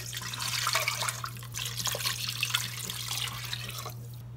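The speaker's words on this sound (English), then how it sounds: "I am adding 4 cups of chicken broth and 2 cups of water." Chicken broth and water poured into a pressure cooker, a steady splashing liquid stream running close and fairly loud for several seconds over a constant low electrical hum.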